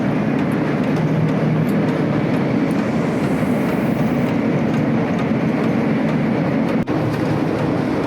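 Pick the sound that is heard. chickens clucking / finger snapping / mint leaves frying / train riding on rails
train riding on rails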